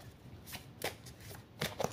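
Oracle cards from a rose-themed deck being shuffled by hand, a few quick papery riffle bursts close up against a quiet room.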